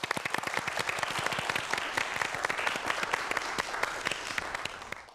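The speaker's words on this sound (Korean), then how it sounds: "박수 부탁드립니다." An audience of students at a science-and-magic lecture breaks into sustained applause, with dense, crisp hand claps at a close, even level for about five seconds before tapering off at the end.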